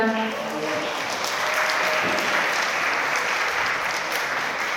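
Guests applauding at a wedding reception in a Gwangju wedding hall, a full steady round of many hands clapping, loud and sustained, with a brief trailing voice at the very start.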